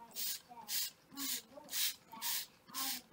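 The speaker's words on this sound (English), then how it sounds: "And then you're going to give everything another little spray." Six short, even bursts of fine misting hiss from a spray bottle misting an egg-carton seed tray, regular pumps about half a second apart, close by with faint children's voices in the background.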